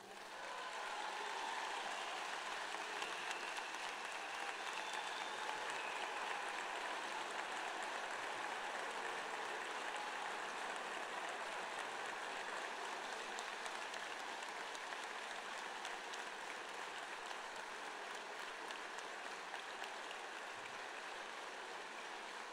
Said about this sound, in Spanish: Un aplauso más grande y más largo se merece Nati.